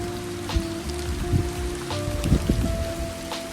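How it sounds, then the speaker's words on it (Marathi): Rain falling in a village, a steady close patter of drops hitting surfaces with a few sharper splats, under a faint continuous hum. "मग आम्ही निघालो काम वगैरे करून आलो तर मस्त पाऊस पडतोय."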